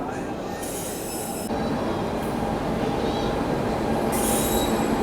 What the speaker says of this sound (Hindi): तो ये आ चुकी है अपनी फरक्का एक्सप्रेस